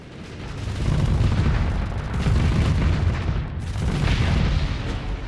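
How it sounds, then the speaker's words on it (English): Heavy Devastator cannon fire in the Starsector space combat game, a sustained loud rumbling barrage of booming blasts running continuously with a brief dip near the end, no voices. "Devastator cannon just sounds so nice."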